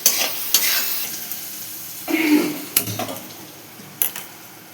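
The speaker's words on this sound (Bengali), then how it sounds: "পেঁয়াজ ভালো করে ভাজা হয়ে গেছে" Onions frying in a pan, a steady background sizzle broken by a few sharp scrapes and stirring clatters of a utensil against the pan, close and moderately loud with no talk.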